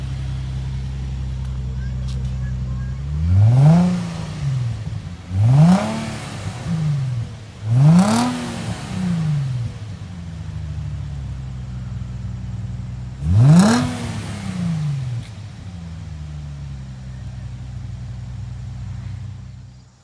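A car engine is revved repeatedly, four sharp rising-and-falling blips over a steady idle, the last after a longer pause.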